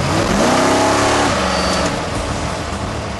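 A powerful high-performance car driven on the road, its engine revving up through rising pitch and then settling into a loud, steady roar close by, with no talk.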